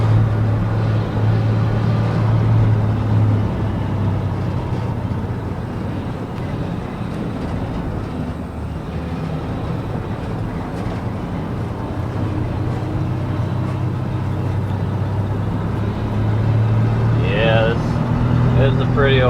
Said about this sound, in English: out and about, driving the grain truck around